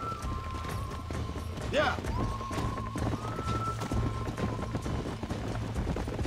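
Rapid hoofbeats of a horse galloping in the Western video game Red Dead Redemption, a steady clip-clop rhythm under background music, with a brief spoken word and game voices over it.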